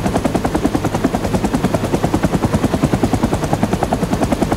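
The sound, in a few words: helicopter rockets and 20 mm cannon firing, Rising Storm 2 video game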